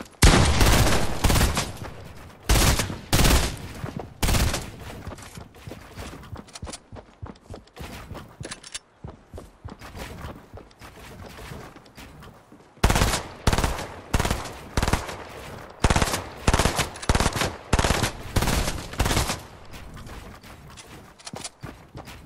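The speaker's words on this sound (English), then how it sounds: "I'm using an AR" Rapid bursts of assault rifle fire from the video game Fortnite, loud and close, coming in repeated volleys with short pauses between them and a quieter stretch midway.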